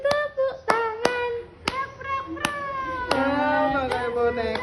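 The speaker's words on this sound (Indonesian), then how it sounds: "Kita lakukan kalau kau suka hati tepuk tangan." Sharp, close hand claps land at an uneven, lilting beat along with a children's song, and a singing voice carries the melody between and beneath them.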